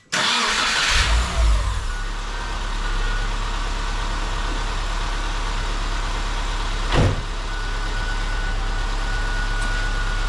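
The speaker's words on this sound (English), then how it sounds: "to do that you have to start the car" A car engine starts during a battery and charging-system check, with a sharp cranking burst giving way to a steady, close idle hum that holds for several seconds, with one brief rise partway through.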